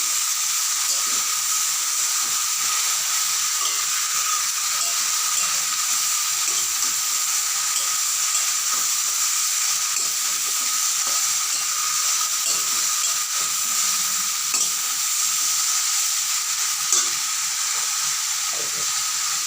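White lotus stems fry with a spoonful of turmeric stirred in, producing a constant hissing sizzle from close by. Faint scraping taps from the stirring break through now and then.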